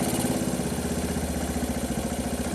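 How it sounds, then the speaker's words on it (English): Kawasaki KLT185 three-wheeler, a small single-cylinder ATV pulled from a snowbank, idling close by with a steady, loud, rapidly pulsing putter. "Well, it's just going to sit here and idle."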